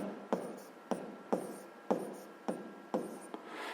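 Handwritten physics notes being written out, seven short pen-stroke bursts at a steady, even pace, close and fairly quiet, with no voice.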